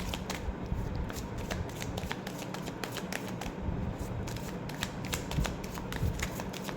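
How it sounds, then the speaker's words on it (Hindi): Tarot cards being shuffled and drawn, heard as continuous close riffling and flicking of the deck with quick crisp snaps throughout, steady and fairly loud, with no speech. "सारे कार्ड साथ में ही निकालती हूँ"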